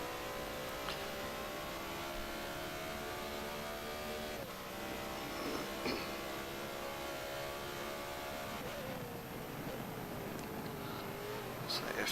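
A BMW race car in a Forza GT race produces a sustained engine whine with shifting revs and a sharp drop as it brakes, mixed with other cars close by.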